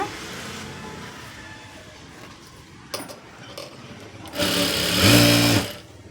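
Sewing machine stitching a blouse, running in short steady bursts with a louder, faster stretch near the end, close and alone with no talk.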